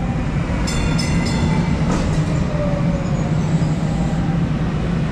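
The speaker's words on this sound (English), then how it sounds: "Let's just get on the next train." Loud, steady rumble of a DART train at close range at Dallas Union Station, with faint high metallic squeals from the wheels; no voices.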